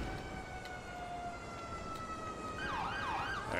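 An ambulance siren in GTA 5 wails steadily in the distance, then swoops up and down in rising, falling sweeps as it draws closer.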